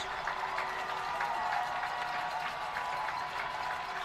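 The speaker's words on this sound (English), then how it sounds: "Crowd on both sides." Dense crowd noise from both sides of the stands at a high school football game between Lafayette Jeff and Chatard, a steady roar with scattered claps and shouts on fourth down, loud and continuous without break.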